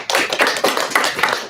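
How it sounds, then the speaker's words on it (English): An audience applauds after a talk on migraine brain circuits, a short burst of close, uneven hand clapping lasting under two seconds. "Can we all just give them a round of applause?"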